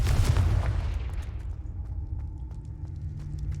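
A Confringo blasting spell going off in the video game Hogwarts Legacy, a loud low boom that rumbles and fades over about a second and a half, followed by faint crackling debris.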